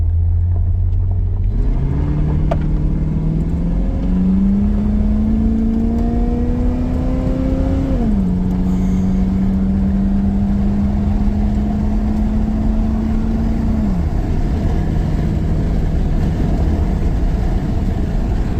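A 1985 Mercury Marquis with a rebuilt 351W V8 running, its loud steady rumble rising through several revs, holding a higher idle, then dropping back, with no talking over the long stretch.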